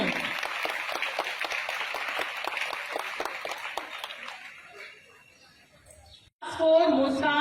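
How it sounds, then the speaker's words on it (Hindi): A school audience claps steadily for a chief guest, the dense applause gradually thinning and fading before a voice begins speaking over a loudspeaker. "हम इनके लिए जोरदार तालियां बजाते हैं।"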